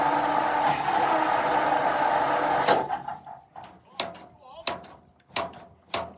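A tank recovery vehicle's engine, worked on choke and throttle, rumbles steadily up close, then cuts out, leaving a series of sharp metallic clunks and clicks with short gaps between them.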